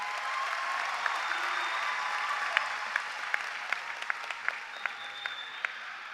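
A high school graduation crowd applauds in a large hall, broad steady clapping heard from a distance with a few sharper individual claps standing out toward the end.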